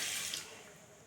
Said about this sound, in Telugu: దీంట్లో కొంచెం వాటర్ పోసుకుందాం అండి, ఒక 1/2 కప్ వాటర్.